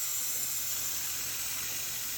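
Steady hiss from a steamer treating a mattress for bed bugs, a constant bright, breathy rush with no pauses.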